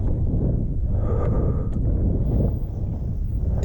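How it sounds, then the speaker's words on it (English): Strong wind buffets a motorcycle rider's microphone on a Benelli TRK 502 X at Sintra's Peninha Sanctuary, a steady loud low roar with continuous gusting rumble throughout. "It's a very windy day,"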